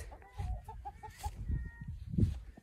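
Chickens cluck near their coop at feeding time, soft repeated clucks and short calls close by, mixed with footsteps and low thumps.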